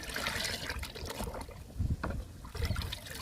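Liquid fertilizer mixed from two kinds is poured onto fruit plants, a steady splashing trickle close by with gurgling surges as the flow hits soil and leaves.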